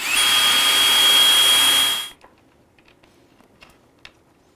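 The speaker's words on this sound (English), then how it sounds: "Go ahead and drill that hole." A power drill fitted with a 1/32 bit bores a hole during a horn install on a Can-Am Spyder F3 three-wheeler, one steady loud whine for about two seconds, then stopping, followed by faint clicks and handling.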